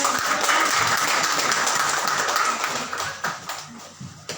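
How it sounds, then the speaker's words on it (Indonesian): A church congregation applauds warmly at a family Christmas service, a dense, sustained clapping that fills the room, then thins into scattered claps toward the end. "Kasih tepuk tangan yang meriah."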